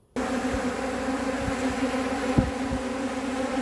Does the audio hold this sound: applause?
no